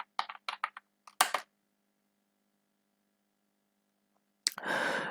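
Typing on a computer keyboard in a quiet room, a quick run of close key clicks followed by a couple of louder taps, then a pause and a final flurry of keystrokes.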